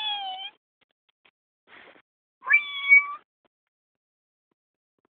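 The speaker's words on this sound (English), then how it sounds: "Maybe there's a kitten in here." A cat meows twice, clear and close, with a brief softer sound between and a short start of another meow at the end.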